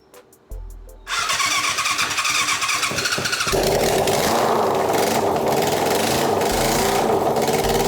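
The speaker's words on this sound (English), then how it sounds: "I'm gonna put it on run, then I'm gonna try and start it." A rebuilt 1988 Yamaha FZ750 motorcycle cranks briefly with a few clicks, then catches and fires up, settling into a loud, steady idle up close that swells slightly as it runs.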